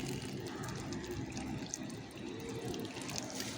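Water pours steadily onto a bougainvillea plant just after fertilizing, a continuous close splashing rush with no pauses.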